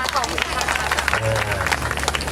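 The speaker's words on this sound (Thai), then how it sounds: "ขอเสียงปรบมือให้คู่นี้ด้วยนะครับ" A studio audience applauds a contestant couple at a Thai fancy-dress couples contest, a dense, loud wash of clapping and crowd noise with voices talking over it.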